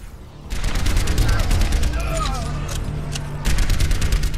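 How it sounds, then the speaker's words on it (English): Long-range gunfire in the video game Overwatch: rapid automatic bursts of shots in dense rhythmic volleys, loud and close, pausing briefly before another burst, with a voice talking underneath. "That's some long range shooting."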